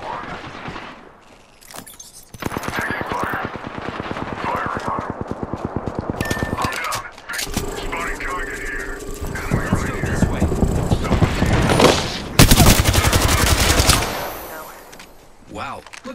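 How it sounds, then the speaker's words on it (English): Bursts of automatic and single gunfire ring out in the video game Apex Legends, layered with in-game effects and brief pauses, with voices heard now and then amid the shooting. "Taking fire."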